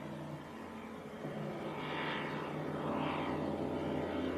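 Light propeller aircraft taxiing out at Leeds Bradford Airport, a steady droning engine hum with airy broadband rumble that swells gradually, heard at moderate distance with no talk.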